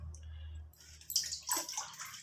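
About 700 ml of water is poured into a mixing bowl for a custard flour pudding, a short faint hum followed by a soft splashing pour lasting roughly a second.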